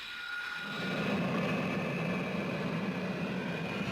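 A Harrier jump jet engine throttles up in a hover pit, starting as a quiet hum before a broad roaring jet rush swells about half a second in and holds at a steady, high level.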